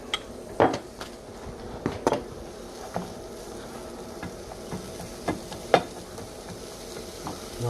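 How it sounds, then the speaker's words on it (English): Chopped dandelion root roasting in a pan, with a soft steady sizzle and scattered clinks and scrapes as the pieces are stirred. "We're going to put it into the pan and we're going to roast them."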